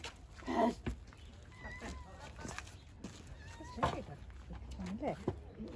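A cat meows a few times in a home kitchen where sourdough bread is being made, the short cries rising over people talking nearby.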